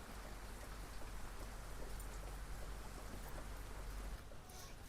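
Steady monsoon rain pours down in a continuous, even hiss of drops on surfaces, moderately loud and close, with no voices over it; it eases slightly near the end.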